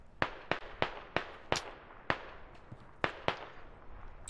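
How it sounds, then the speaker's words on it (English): Enemy gunfire in the military shooter Squad, about ten sharp, irregularly spaced shots, moderately distant with echoing tails, no voices. "They're firing on the west."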